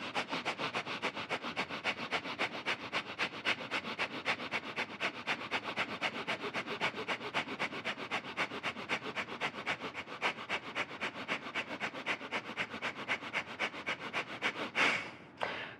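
Breath of fire yoga breathing, rapid rhythmic exhalations forced through the nose in a steady, even pulse of sharp sniff-like bursts lasting many seconds, close and moderately loud, ending with a couple of slower breaths.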